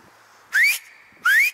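Two sharp rising whistles, evenly spaced and fairly loud, call a dog outdoors, with quiet background between them and no speech.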